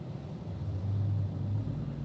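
A car drives slowly down a road toward floodwater after Hurricane Florence in eastern North Carolina, its engine a low, steady rumble close by with a faint hum rising midway.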